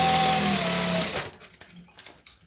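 Sewing machine stitching a mini bag, running in a loud steady whir for about a second before stopping, followed by faint handling clicks.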